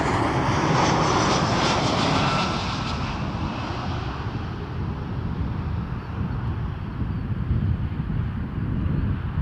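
A Delta airliner departing Toronto Pearson Airport roars loudly with broadband engine rumble and wind buffeting, strongest at first, then holding as a steady, slightly fading drone.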